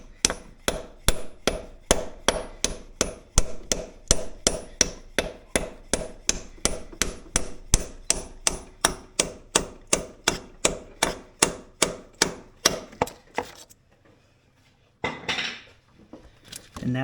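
A hammer taps a plug into a B16 engine block, about forty sharp, evenly spaced metallic strikes in a fast steady rhythm, close and ringing, then a brief quiet pause with faint handling noise.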